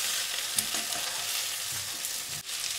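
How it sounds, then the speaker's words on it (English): Boiled potatoes tossed in masala fry in a pan for a pahadi aloo curry, a continuous close sizzle broken by a few soft stirring knocks. "I am going to toss these potatoes in the masala"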